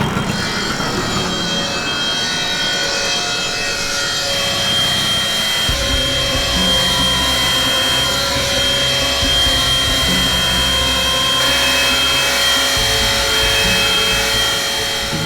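Machinery works inside a marble factory, a continuous loud, dense mechanical roar with a steady high whine running throughout, with no voices.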